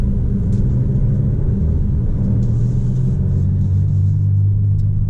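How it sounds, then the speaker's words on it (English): An Alfa Romeo Stelvio Ti Lusso SUV's small inline-4 engine hums steadily from inside the cabin while driving, a constant low rumble with a slight rise in pitch midway. "I'm gonna let you guys see me drive it a little bit."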